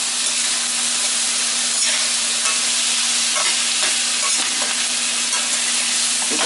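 Sweet potato home fries seasoned with smoked paprika fry in a pan with a steady, close sizzle, while a spoon or spatula scrapes and stirs through them with scattered clicks.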